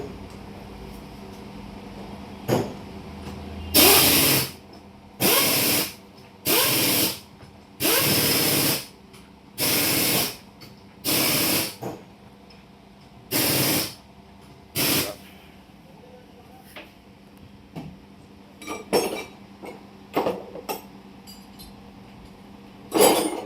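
Oil sprayed onto the clutch release bearing of a Maruti Suzuki Swift diesel during a clutch replacement: about eight loud, close hissing bursts, each lasting roughly a second, separated by short pauses, followed by lighter clinks and handling noises.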